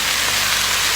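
Chopped mushrooms hit a hot pan with a loud, dense burst of hissing sizzle that fills the short moment without letup.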